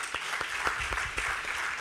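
Brief audience applause at a farewell ceremony honoring a professor, a short soft patter of clapping heard at moderate distance, with no one speaking over it.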